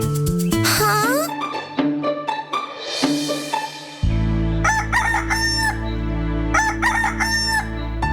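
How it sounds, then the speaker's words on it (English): Cartoon rooster crowing cock-a-doodle-doo in a children's bedtime story, a loud, close call with rising and falling tones, set among music and sound effects that play throughout. "The next morning, Cussly woke up to the sound of the rooster."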